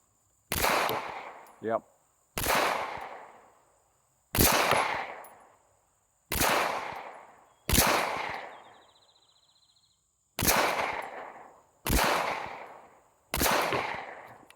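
Close, sharp Glock pistol shots crack one at a time, roughly a second or two apart, about eight in all, each with a short ringing decay as rounds hit a steel tank plate. A brief spoken word comes between the first shots.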